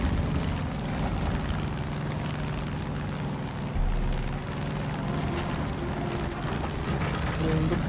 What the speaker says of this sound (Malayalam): വെറുതെ പ്ലെയിനൊക്കെ എടുത്തിട്ട് ആളെ ബുദ്ധിമുട്ടിക്കാം